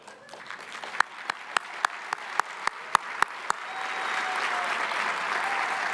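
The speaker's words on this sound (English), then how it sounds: "please stand so we can applaud their attendance and salute your service to liberty" At a policy summit keynote, a dozen sharp, evenly spaced claps ring out close by before a full audience joins in with dense, building applause that swells and holds to the end.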